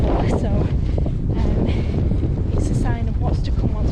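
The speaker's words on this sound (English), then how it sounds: "It's very windy and we're at quite low level" Strong wind at low level during a fell ultramarathon in Yorkshire buffets the microphone in a constant low roar, with faint voices and brief higher tones breaking through at moments.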